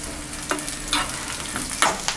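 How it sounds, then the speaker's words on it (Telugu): Drumstick pieces frying in oil for a Telugu munakkaya masala curry, a steady soft sizzle broken by a few sharp scraping stirs spaced through the stretch, close and alone with no voices. "ములక్కాడలు గట్టిగా ఉంటాయి కాబట్టి కొంచెం 10 నిమిషాలు ఫ్రై అవ్వాలి."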